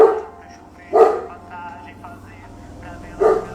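Three loud, separate dog barks ring out at intervals over a low background hum.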